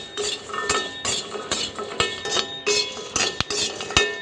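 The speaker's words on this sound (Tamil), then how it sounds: "தீயை விடாமல் வறுத்துக்கங்க" Dry ginger and pepper roast in a pan while a metal spoon stirs them, giving a steady run of close clinks and scrapes against the metal in an even rhythm.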